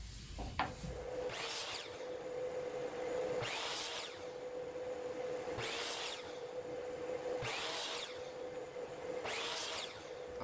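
Power saw slicing through wood segments for a turned bowl's feature ring, five separate cuts each rising to a loud whining bite then fading, over a steady motor hum in a workshop.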